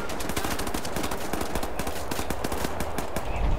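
Rapid, loud submachine gun fire in the shooter game Wolfenstein: The New Order, a dense continuous burst of shots running throughout, with no talk.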